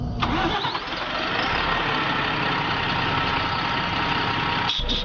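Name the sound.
armored vehicle diesel truck engine idling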